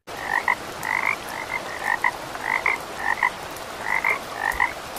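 Wood frogs call in a steady chorus of short, hoarse, duck-like clucks, about a dozen quick croaks in a few seconds, close and clear with no voices.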